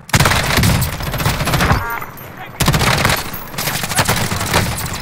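Loud, dense bursts of automatic gunfire from a Modern Warfare video game match, rapid overlapping shots filling nearly the whole stretch with a brief lull midway, and some speech in the background.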